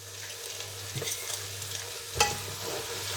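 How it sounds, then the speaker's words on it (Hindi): Onions fry in a pan for a chicken and okra dish, a steady sizzle broken by a few stirring scrapes and one sharp clank near the end. "डालने के बाद इसको भूनेंगे। अब हम डालेंगे प्याज भी"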